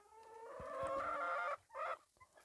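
Chickens clucking with a rooster calling on a small farm, one loud bird close by with a run of throaty harmonic calls, then shorter squawks after a brief pause.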